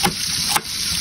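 Carrots hitting a hot pan while milkfish pochero is being cooked, giving a steady frying sizzle with a couple of brief bursts as pieces land.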